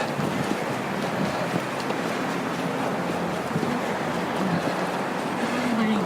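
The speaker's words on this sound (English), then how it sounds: "Cold wind today." Cold wind blows steadily against the microphone outdoors near 2 degrees Celsius, a dense, unbroken rushing roar from start to finish, with a faint voice murmuring underneath.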